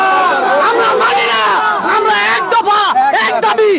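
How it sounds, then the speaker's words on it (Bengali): Protest crowd at a political rally in Bangladesh, many voices chanting and shouting slogans together, loud and continuous with rising and falling cries close by. "ওইদিকে তো শান্তি সমাবেশ চলছে, সেখানে স্লোগান দিচ্ছে ভুয়া"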